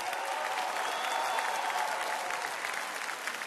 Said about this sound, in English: Can we get a round of applause for these men in blue here?